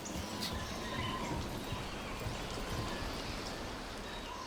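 Steady rain in the Dragon Age: The Veilguard game world, a dense continuous patter and hiss holding at an even, moderate level throughout with no pauses.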